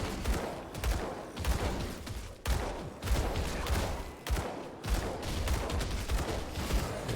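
Rapid gunfire from the action RPG Grim Dawn, dense bursts of shots in repeated volleys with brief gaps, loud and continuous without talk.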